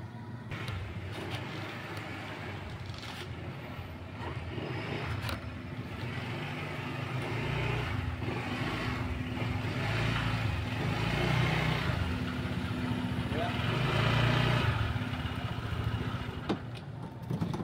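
Aiman's new motorcycle runs on a street at night, its engine idling and rumbling steadily and growing somewhat louder midway, with passing traffic sounds around it.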